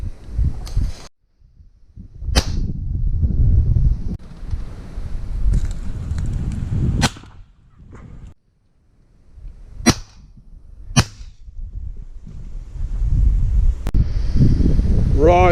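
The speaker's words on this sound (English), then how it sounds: "I have just fired the last cartridge of that box" A shotgun fired at decoyed woodpigeons lets off several sharp, separate reports spaced seconds apart, with gusty wind noise rumbling over the microphone between shots and a voice briefly heard.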